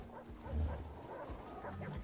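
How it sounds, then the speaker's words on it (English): Dogs whimper and yip in a dogsledding video game, thin whining cries rising over a low continuous rumble, with a few short yelps near the end. "I don't want to hit one of my dogs."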